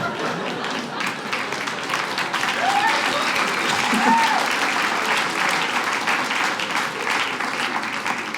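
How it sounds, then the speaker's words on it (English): Audience applause at a stand-up comedy show, a dense steady wash of clapping that holds loud and unbroken for the whole stretch, with faint voices now and then beneath it. "Yeah, you better applaud."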